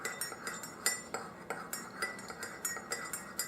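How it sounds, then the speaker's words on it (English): A spoon stirs turmeric coffee in a cup with steady, repeated clinks against the sides, light and close, with no talking. "Give it a good stir"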